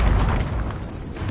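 A Glacius ice spell cast in the video game Hogwarts Legacy, a loud dense burst of magical impact noise with deep booming low end, sustained across a short moment without any talk.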